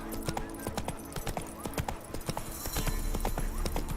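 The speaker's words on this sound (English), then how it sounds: "Whoa there, Roach." Horse hooves clip-clop steadily in The Witcher 3 video game, a brisk rhythmic series of close, clear hoofbeats with an occasional faint whinny in the background.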